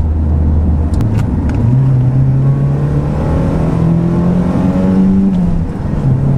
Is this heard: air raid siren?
no